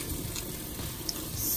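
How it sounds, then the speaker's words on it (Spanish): Hot water running from a tap into a dog's food bowl, a steady close hiss of flowing water with no pauses. "normalmente le echo agua caliente al traste de ella, más en esa parte"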